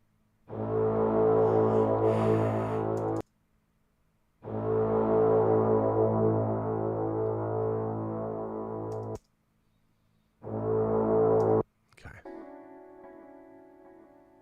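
Tuba sounds three long, low, buzzing notes with pauses between them, loud and close, then a short burst of clattering follows.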